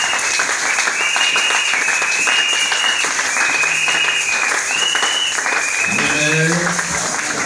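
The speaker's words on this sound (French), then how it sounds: "Nous acclamons très très fort pour nous." A church congregation claps and cheers loudly during a French-language worship service, continuous dense applause with voices rising over it and musical tones near the end.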